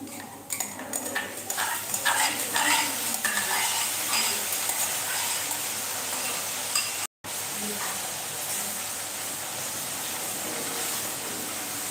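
Tomato, ginger and garlic paste hits frying onions in a hot pan, bursting into loud, steady sizzling with scraping stirs and utensil clinks, broken by a brief dropout midway.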